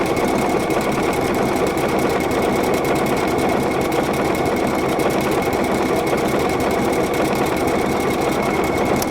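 A PFAFF creative icon sewing machine stitching steadily, a continuous close, even mechanical whir with a fast regular needle rhythm running unbroken throughout.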